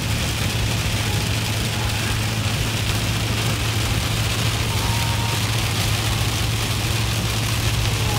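Steady road and engine drone from inside a moving Ram pickup truck on the interstate in rain, a constant low hum mixed with the hiss of rain and wet tires, with no speech.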